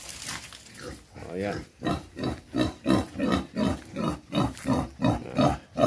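A purebred native Quezon Black pig grunts in a steady, rhythmic series of deep, close grunts, about a dozen in quick succession, with a person speaking briefly at the start.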